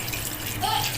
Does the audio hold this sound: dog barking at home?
no